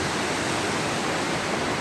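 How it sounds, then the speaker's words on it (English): McDowell Creek Falls roaring close by, a dense, steady rush of falling water that fills the whole clip with unbroken rumbling noise. "hope you can hear me over the rumbling of this water. Beautiful waterfall behind me."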